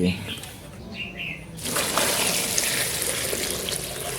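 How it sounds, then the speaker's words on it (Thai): Water pours onto manure in a tank as a steady, rushing splash that starts partway through, after a quieter stretch with birds chirping in the background. "เสร็จแล้วอเอาน้ำตามลงไปเลย"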